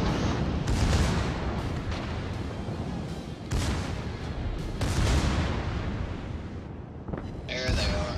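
Heavy booms and blasts of naval gunfire and torpedo hits in the World of Warships video game pile up in dense bursts, with a rumbling battle soundscape throughout and a few louder impacts.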